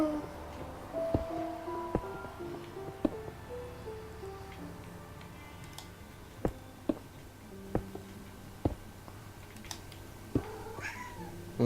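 A cat meows several times at close range, short tonal calls scattered among ticking clicks and faint background sounds, with no talking.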